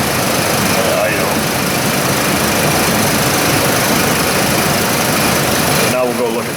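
A Chevy Colorado engine idles with its cam at 10 degrees, giving a loud, steady, unbroken drone that runs close up throughout, with a voice heard over it.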